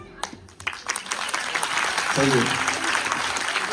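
An audience claps at a spiritual talk during a felicitation with a garland, applause building from scattered claps into a sustained wash while a voice talks over it.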